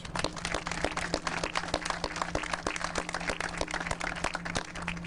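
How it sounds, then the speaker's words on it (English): An audience applauds at a water infrastructure funding announcement with Congressman Neal and the EPA administrator, steady and fairly close clapping that carries on throughout without a break. "We should give you a big round of applause."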